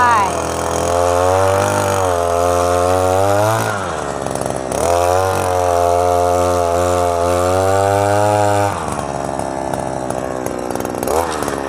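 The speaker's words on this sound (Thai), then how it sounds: "อันนี้เป็นดินนาจะเจาะง่ายนะคะ" Up close, a petrol earth auger bores into soft paddy-field soil with a loud, harmonically rich two-stroke drone. Its pitch rises and falls as the engine loads and revs, dipping briefly between pushes while someone talks over it.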